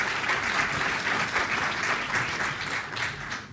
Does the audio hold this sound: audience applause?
yes